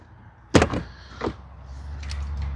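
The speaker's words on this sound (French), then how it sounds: "J'ouvre la porte." A door being opened indoors: a sharp loud latch clack followed by a softer thud about a second later, then quiet room noise.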